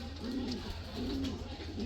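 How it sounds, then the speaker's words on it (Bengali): Homing pigeons, back from a long-distance release, coo softly nearby in two low, rolling phrases over a steady background hum, with no voices. "আবার কবুতর চলে আসছে"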